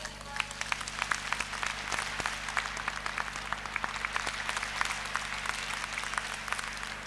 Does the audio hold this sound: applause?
yes